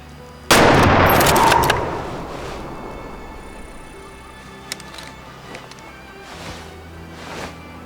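Single loud rifle gunshot at a deer in the hunting game Way of the Hunter, a sharp crack followed by a long rolling echo that fades over several seconds.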